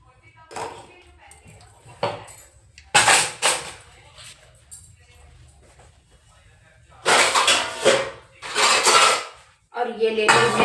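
A steel thali plate is picked up in a home kitchen, giving several loud, bright metallic clatters and clinks with quieter handling noises between them.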